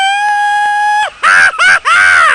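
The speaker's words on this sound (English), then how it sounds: "an ultra-hyper announcer lets you know if you're coming up on a stunt" An ultra-hyper announcer in the 1995 DOS racing game Whiplash lets out loud, strained screams, a long steady tone followed by three choppy wailing bursts, close and alone.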